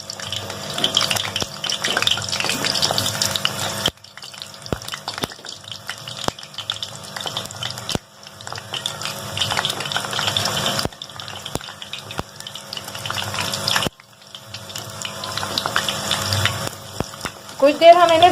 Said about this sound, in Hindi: यहाँ पर हमने ऑयल गरम करने के लिए रख दिया था, इसमें हम चिप्स ऐड करेंगे।